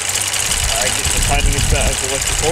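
A Jaguar XK engine fitted with a 123 Ignition Tune+ idles steadily and close by, a continuous low rumble running beneath a voice for the whole stretch.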